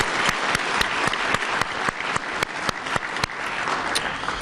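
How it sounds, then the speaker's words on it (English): Scattered applause at an Ottawa City Council meeting honouring Centennial Public School: a modest group claps with distinct, sharp individual hand strikes standing out from a thinner background of clapping, steady throughout. "let's give a big round of applause to Centennial Public School"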